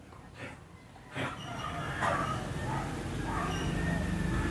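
Several dogs at a house bark and yip in short bursts, fairly close but not loud, with a whimpering edge, over a background hum and some faint talk.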